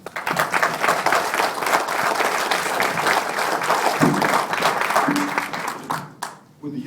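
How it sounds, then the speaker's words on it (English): An audience at a meeting applauds Dr. Brandon Beck with sustained, dense clapping that runs for about six seconds before thinning out, with a voice briefly heard near the end. "I'd like to bring y'all a round of applause for Dr."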